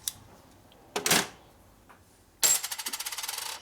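Metal spacing washers from a Harley twin cam Dyna motor clink as they are handled: a sharp clink, a faint tick, then a bright clatter that settles into a quick run of rattling metallic taps, close and clear with no talk.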